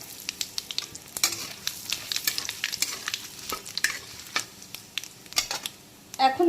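Bay leaves and black cumin sizzle in hot oil for a prawn bhuna, giving a crackly, spitting fry with frequent sharp pops and a few utensil clinks close by.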